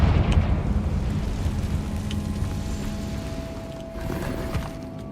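Confringo fire spell cast in Hogwarts Legacy, a dense crackling, rumbling blast that fades into rainy noise, steady and fairly loud with no talk.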